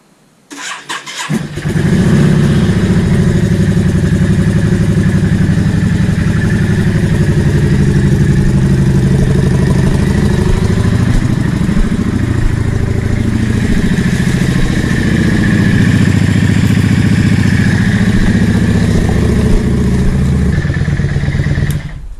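A Yamaha XVS650 motorcycle engine starts on choke and idles steadily for about twenty seconds, loud and close, with a continuous low throb and a faint mechanical clatter and no speech.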